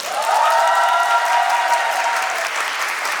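Wedding guests at a Korean wedding ceremony burst into loud, steady applause mixed with cheering, filling the room closely for a few seconds.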